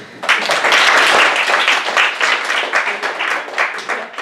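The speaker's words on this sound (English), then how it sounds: "With a round of applause." Loud, dense applause from a comedy club audience, steady clapping that swells quickly and holds for several seconds without any talking.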